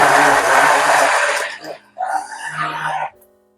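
Kitchen blender puréeing chicken liver with room-temperature butter for pâté, a loud steady whir for about a second and a half, then a brief drop and a second motor burst before stopping.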